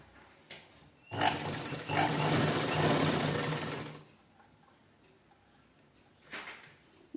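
A sewing machine stitches a velvet blouse sleeve in one steady whirring run of about three seconds, with brief quieter whirs before and after it.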